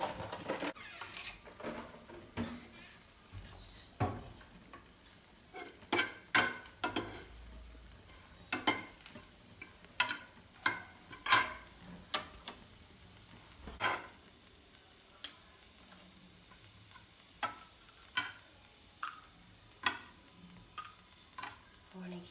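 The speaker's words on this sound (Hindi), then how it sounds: "तो लाल मिर्च को थोड़ा सा भूनकर तेल में अलग निकाल देंगे किसी बर्तन में" Red chilies roasting in hot oil for a pahadi stinging nettle dish, a faint sizzle with scattered crackles and a few light clinks of the pan, close but quiet, no talk.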